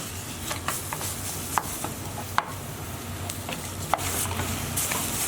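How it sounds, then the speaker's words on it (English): Half a kilo of beef mince with garlic browns in a pan, a steady close sizzle broken by sharp spatula scrapes and taps as it is stirred, no voices. "Then we're going to add half a kilo of beef mince. And all we want to do at this point is just very lightly brown our meat"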